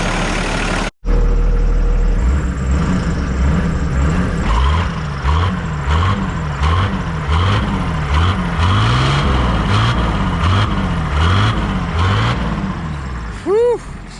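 A neglected Toyota Landcruiser HJ45 engine runs loud and close with a steady, lumpy rhythmic idle pulse, a brief cut early on and a squeal near the end.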